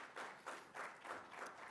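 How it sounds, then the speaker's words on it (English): Audience applause at a city council ward debate, a moderate burst of clapping with uneven surges that swells and fades several times over a couple of seconds, heard alone without talk. "Give him a round of applause."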